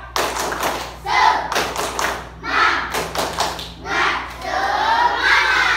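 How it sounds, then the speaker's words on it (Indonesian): A primary school class does a rhythmic spirit clap in the classroom, with bursts of claps and children's voices shouting along, then a stretch of sustained clapping near the end. "tepuk semangat"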